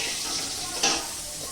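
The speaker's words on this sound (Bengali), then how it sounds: "এবার আলুগুলো একটু ভেজে নেবো লাল লাল করে।" Potatoes seasoned with salt and turmeric fry in hot oil in a pan, giving a steady, close sizzle with a brief louder burst of crackle as they are stirred.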